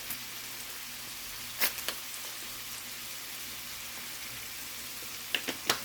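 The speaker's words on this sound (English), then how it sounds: "Now we're just going to stir fry that till we get it almost a golden brown" Seasoning sizzling in a pan for beef stew, with garlic and herb seasoning, pepper and Italian seasoning: a steady, quiet frying hiss with a few sharper pops and crackles.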